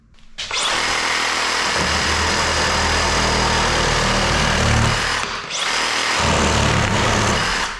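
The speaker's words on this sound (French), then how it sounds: "on va simplement couper quelques petits morceaux de bois pour vous montrer un petit peu comment ça fonctionne" A Makita DJR187Z 18V cordless reciprocating saw cutting softwood, loud and close, a harsh buzzing run of about five seconds, a brief pause, then a second cut.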